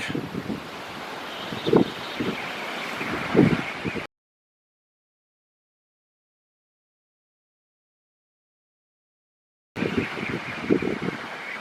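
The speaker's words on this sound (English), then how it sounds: "Wind's coming on strong." Strong storm wind buffets an outdoor microphone near a small 24v wind turbine under test, a steady roaring rush with louder gusts, broken by a long stretch of silence before the wind returns.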